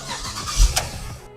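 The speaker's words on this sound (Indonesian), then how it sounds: "Kita dengerin seberapa halus mesinnya." A Mazda CX-9 SUV engine starts, a short crank and catch settling into a smooth, steady idle, heard close with no talking.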